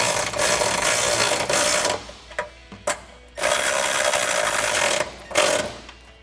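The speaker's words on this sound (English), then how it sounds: "you'll come back and tighten those all down with a 12mm socket" A 12mm socket ratchet tightening bracket bolts while installing nerf side step bars on a Toyota 4Runner: loud close bursts of rapid ratcheting clicks with short pauses between strokes.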